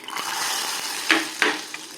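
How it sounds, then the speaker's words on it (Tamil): Mustard seeds crackling and sizzling steadily in hot ghee, with a couple of sharper pops and a faint metallic clink, close up. "நெய்யில் கடுகு வெடிச்சு விட்டு"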